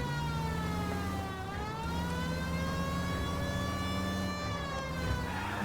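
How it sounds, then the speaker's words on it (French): A police car siren wails continuously in the L.A. Noire video game, its tone rising and falling steadily over a low engine drone, loud and close throughout. "On va mettre la sirène évidemment."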